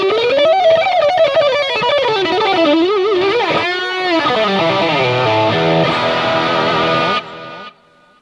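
A solo singing voice treated with a delay effect, each phrase followed by repeating echoes, loud and continuous before cutting off abruptly near the end.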